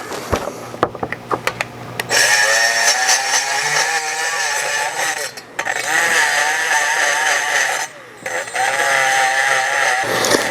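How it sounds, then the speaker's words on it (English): A grinder cuts a channel along a crack in the intake of a 1959 Cadillac, starting after a few ticking taps with a loud, high, whining grind that dips briefly twice as the tool bites into the metal. "I'm going to clean out this channel with this grinder and see how it goes."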